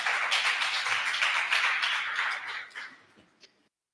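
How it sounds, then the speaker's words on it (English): Conference audience at a coastal communities panel clapping for the panelists: a steady, moderately loud wash of hands that thins out and fades to silence near the end, with no talking. "A round of applause, please, for all our panelists."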